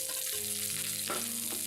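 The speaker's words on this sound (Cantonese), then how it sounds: "然後我哋將啲洋葱條放落去輕輕炒" Onion strips stir-fried in a wok give a quiet, continuous sizzle with soft scraping as they are tossed, while a low steady hum runs beneath.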